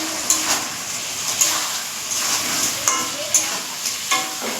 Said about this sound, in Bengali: গ্যাসটা করে বাড়িয়ে দিচ্ছি, কাঁকড়াগুলো দিয়ে